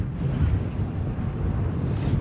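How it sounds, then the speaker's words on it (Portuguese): Strong wind buffets the microphone at a beach in Lagos, in the Algarve, a continuous low rumbling roar with no speech. "Bastante vento."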